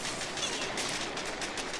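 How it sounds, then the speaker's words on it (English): Boom cannons firing during a Boom Beach base attack, heard as a dense, continuous crackle of rapid game gunfire with no pauses, steady and fairly loud throughout, with no one talking. "3 if not 4 of the boom cannons were firing on him"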